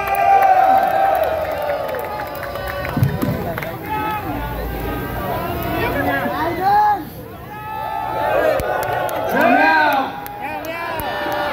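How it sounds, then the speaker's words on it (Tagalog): A protest crowd outdoors in White Plains claps and shouts for a congressman, with cheers, whoops and crowd noise rising and falling amid overlapping voices and chatter. "palakpakan na may kasamang sigawan para kay Congressman Kiko Barzaga!"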